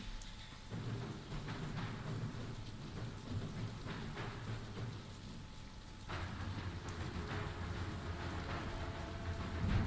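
Heavy, steady rain pours across the whole span while deep thunder rumbles underneath, swelling louder partway through, with no voices.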